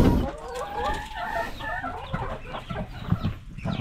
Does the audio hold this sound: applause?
no